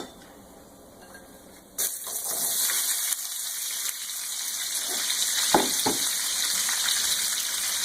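Onions dropped into hot bacon grease in a pan, a sudden loud sizzle that bursts up and holds steady, with a few clinks of utensils against the pan.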